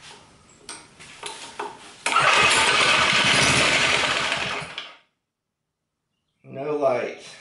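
A 1970s Sears generator engine found in a scrap yard is pull-started, with several rattling clicks and then a loud rough sputtering burst for about three seconds that dies away to silence, followed by someone speaking.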